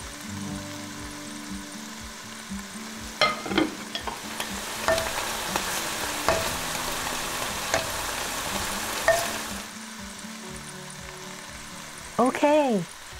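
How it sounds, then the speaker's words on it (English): Buddha's delight simmers in a clay pot, a soft steady bubbling sizzle with occasional clinks of utensils, and a voice briefly speaks near the end. "Cover the dish and continue to simmer for 3 more minutes."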